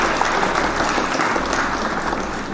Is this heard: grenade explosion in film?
no